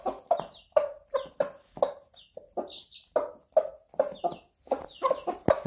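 Chickens and young chicks cluck close by in a repeated, uneven series of short clucks, mixed with higher peeps and trills, with no talking.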